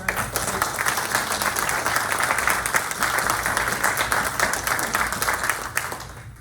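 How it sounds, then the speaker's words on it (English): A sustained round of applause from an audience at a community arts event, dense and even clapping that holds steady throughout before tapering slightly at the end, with no talking over it. "I'd like to give you a round of applause."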